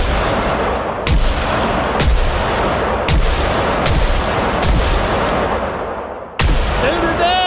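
Loud gunshots ring out in Project Zomboid, about eight sharp, close blasts spaced roughly a second apart, each trailing off in a ringing echo, with voices talking between shots.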